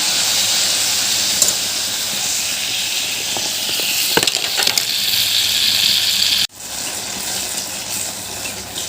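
Loud, close, steady hiss of malpua batter made with very ripe bananas frying in hot oil, with a few small crackles, then a sudden drop to a quieter sizzle near the end.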